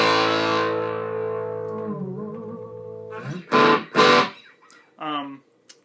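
A distorted electric guitar, a custom Jem-inspired build, rings out a low sustained note on the wound strings, slowly bending and fading, followed by a few short plucked notes.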